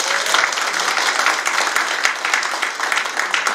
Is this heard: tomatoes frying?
no